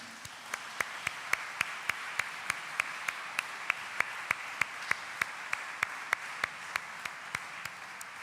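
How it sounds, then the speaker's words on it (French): Applause from a crowd in a reverberant church after a harp concert, with rhythmic claps rising into steady unison beats about three per second. "On l'applaudit très fort."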